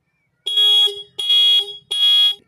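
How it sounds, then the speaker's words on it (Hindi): Motorcycle horn wired through an indicator flasher relay, giving three loud, evenly spaced electronic honks, each about half a second long with short silent gaps between, close and alone. "यहाँ पे आपका हॉर्न जो है आगे पीछे थोड़ा रुक रुक के वर्क कर वर्क करता है"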